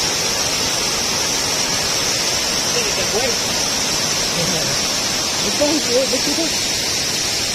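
Asik Asik Falls in Alamada rushes in a loud, constant roar of falling water, with a voice speaking briefly over the steady wash.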